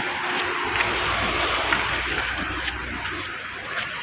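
Heavy rain pours onto a flooded road in Malaysia, a dense, continuous wash of splashing water and rushing runoff heard close and steady with no talk.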